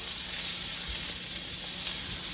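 Salmon fillet frying skin-down in a thin, flexible pan that is not non-stick, crisping the skin; a steady, close, loud sizzle runs throughout with no one talking.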